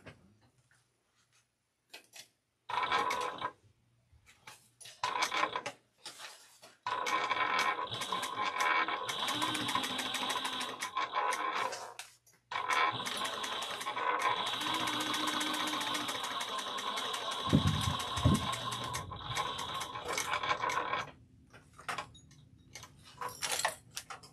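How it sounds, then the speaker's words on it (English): A domestic sewing machine top stitching a travel bag at an eighth of an inch, running in several steady bursts of rapid, even stitching separated by pauses, with a low thump or two near the end. "So I'm going to top stitch at 1/8 of an inch."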